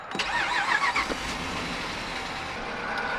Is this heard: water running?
no